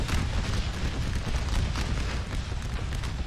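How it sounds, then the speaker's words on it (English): Cannon fire booms through a dense, continuous roar of video game battle noise at Little Round Top, blending into a loud, constant wash of explosions and gunfire. "we've got them cannons targeting this blob of men"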